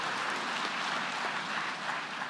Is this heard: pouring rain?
no